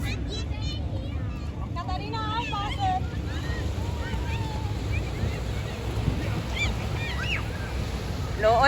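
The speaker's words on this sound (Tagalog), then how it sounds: "may dagat gud" Sea waves wash onto a shore in a steady broad roar with wind buffeting the microphone, while people talk and call out over the surf throughout.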